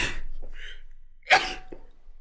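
A single sharp sneeze bursts out nearby after a few soft breathy sounds in a quiet room.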